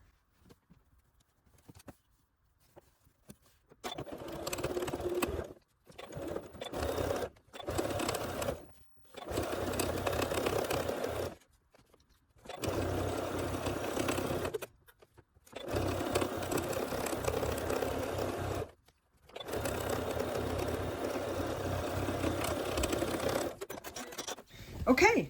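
A sewing machine stitches the lining piece of a fleece beret in repeated runs of fast, steady whirring, broken by short pauses and quiet handling noises.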